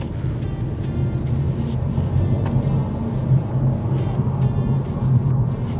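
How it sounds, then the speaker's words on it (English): A 184-horsepower car in sport mode accelerates and shifts through its gears on paddle shifters, producing a continuous loud engine drone with rising and falling tone and some wind rush, heard from inside the cabin without talk. "I'm gonna pop it into sport mode and then use the paddle shifters and see how smoothly it actually shifts through the gears"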